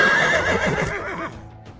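A horse whinnies loudly and close, a shrill, wavering neigh that fades into a breathy snort, heard alone in a short burst.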